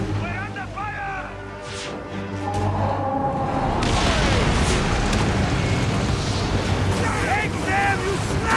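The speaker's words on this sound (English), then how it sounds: "Our catapults will fire upon your order." Catapults firing during a naval battle in Assassin's Creed Origins, heavy booming bursts and rushing whooshes that swell into a sustained loud roar, with voices shouting over the din.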